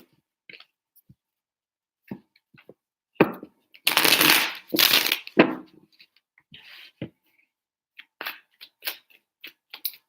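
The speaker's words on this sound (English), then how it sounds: "3 shuffles for Capricorn and their person." A deck of tarot cards is shuffled by hand in short, crisp riffling bursts, loudest in a cluster of about three near the middle, with quiet gaps and small taps around them.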